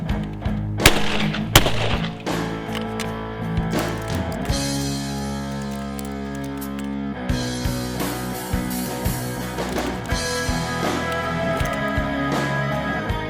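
A 20 gauge shotgun firing a reloaded Winchester Super Target shell gives a sharp close blast early on, followed by clicks, thumps and handling noises, with a long ringing tone in the middle.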